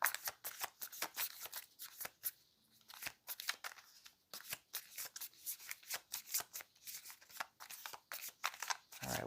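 Tarot cards are shuffled by hand in a quiet room, producing repeated rapid crisp riffles and slaps in irregular bursts with brief pauses, close and fairly soft, with no talk.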